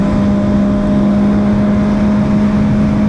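MV Agusta Brutale RR motorcycle cruising in sixth gear at low revs, a steady loud engine drone with wind rush, held constant throughout with no shifts.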